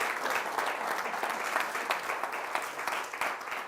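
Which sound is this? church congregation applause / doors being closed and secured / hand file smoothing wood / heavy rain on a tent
church congregation applause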